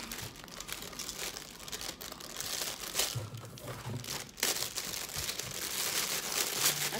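Plastic cosmetics packaging from a Milani makeup haul being opened, giving continuous close-up crinkling and crackling with a few sharper tearing rustles, steady and fairly quiet with no talk.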